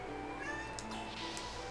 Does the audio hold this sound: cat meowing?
yes